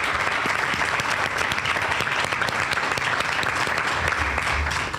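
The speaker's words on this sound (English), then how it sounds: "Please stand so we can give you a round of applause and thank you for your service." A seated audience at a Tiger Bay Club of Manatee law enforcement luncheon applauds veterans, steady dense clapping that fills the room at close range for the whole stretch, with no voices over it.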